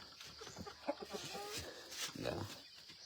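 Chickens on a farm clucking softly in short, scattered bursts, faint and close, with a person talking quietly over them.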